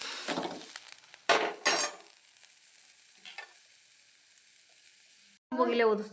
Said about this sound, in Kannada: ಮೆಣಸಿನ್ಕಾಯಿನೆಲ್ಲ ಚೆಂದಾಗಿ ಹೊತ್ತಾಗೋಂಗೆ ಹುರ್ಕೊಂಡು